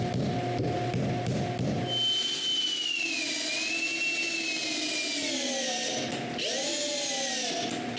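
A power drill drives long screws into a wooden snowshoe rack, its steady whine rising and dipping as the motor loads up, loud and close, with a pause and restart near the end.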